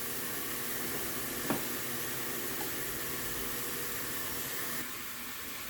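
Barbecue chicken pieces cooking on a covered grill, a steady broadband hiss and sizzle with one faint clunk, even and continuous, easing slightly toward the end, no talk.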